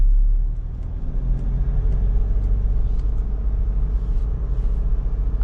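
A car driving on a road in third gear, its engine giving a steady, close low rumble that holds fairly even throughout, with no talk over it.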